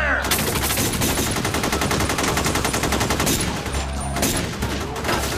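Rapid automatic AK rifle fire from the North Hollywood shoot-out, a dense continuous burst of close, loud shots with faint voices underneath.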